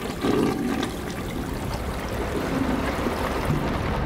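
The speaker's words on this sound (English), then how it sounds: "Can we flush the toilet?" A toilet flushing in the horror video game Layers of Fear, a steady rushing and trickling of water running alone for several seconds at moderate loudness.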